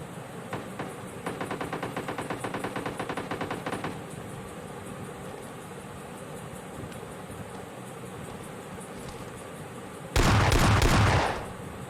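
Rapid automatic gunfire from a PUBG Mobile Lite match rattles off in a dense burst for about four seconds, followed after a quieter stretch by a loud, heavy blast near the end.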